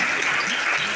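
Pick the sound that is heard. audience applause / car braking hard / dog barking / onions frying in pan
audience applause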